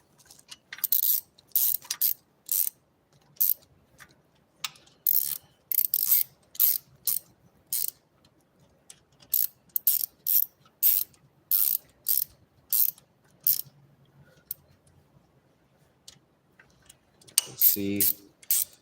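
Ratcheting wrench tightening the valve adjustment on an engine, a long run of crisp repeated clicks in short bursts with brief pauses, close and fairly loud, ending in a louder clunk.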